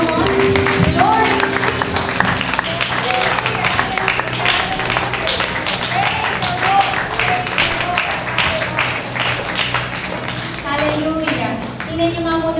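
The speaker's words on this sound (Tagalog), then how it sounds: "Sama-sama muna po natin salubungin ng malakas na palakpak ang Panginoon." Church congregation applauding together during a worship devotion, a dense wash of many hands clapping steadily for several seconds, mixed with voices and someone speaking underneath.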